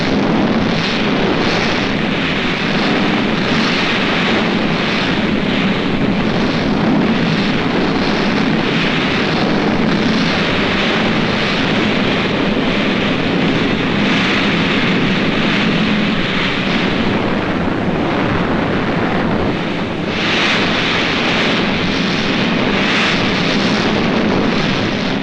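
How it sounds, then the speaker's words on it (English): Katyusha rocket guns fire in a continuous, dense roar of launches and blasts, loud and sustained throughout with little variation. "Rocket guns, Katyusha, the Russians call them."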